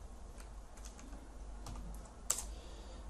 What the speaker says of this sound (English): Let's type out this system.out.println.